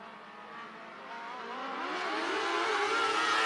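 Race cars at Marion County Speedway pulling away at the start of a heat under the green flag: a swelling engine roar that grows steadily louder and denser over a few seconds, heard from a distance.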